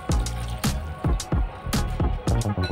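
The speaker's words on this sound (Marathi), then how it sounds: "आता मी कुरडई आपली पाण्यामध्ये टाकते।" Dried kurdai pieces dropped into water to soak for a chutney, giving several distinct plopping splashes spaced out at close range, with no talking.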